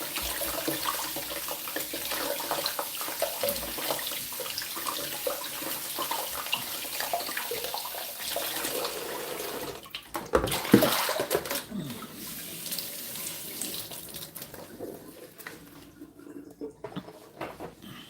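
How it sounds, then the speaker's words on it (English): Tap water runs steadily over a whole pineapple as its skin is rinsed in a kitchen sink, a constant close splashing hiss with a brief louder burst of splatter midway. "Let's just wash the skin enough."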